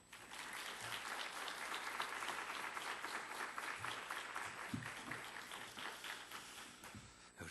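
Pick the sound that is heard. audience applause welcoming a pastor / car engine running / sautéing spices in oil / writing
audience applause welcoming a pastor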